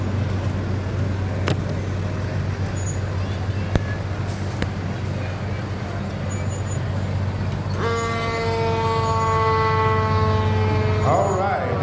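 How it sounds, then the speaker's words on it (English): A fire engine from Nebo Fire and Rescue, one of the latest models, rolling through the 2015 Madisonville Christmas parade, its siren wailing in stacked rising tones from about eight seconds in, over steady roadway rumble and crowd noise. "Siren works."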